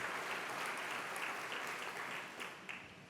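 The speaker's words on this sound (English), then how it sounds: "we should give them one more round of applause" Applause from a seated audience at a Santa Fe speaker series on zoning, a steady dense wash of clapping held for a few seconds before thinning out.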